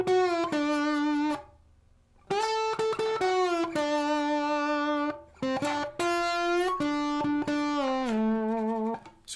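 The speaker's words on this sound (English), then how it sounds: "play on guitar, it would sound like this." Slide guitar plays a melody in sustained gliding notes with bright overtones, sliding between pitches in phrases separated by short pauses, close and alone.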